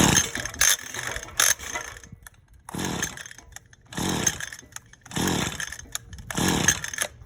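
A weed eater's recoil starter pulled with the choke on: about five rasping, ratcheting pulls spaced a second or so apart, close and loud, without the engine catching.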